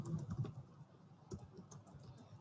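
Typing on a computer keyboard, a quick run of soft key clicks, then a pause and a few more scattered taps, close and fairly quiet with no talk.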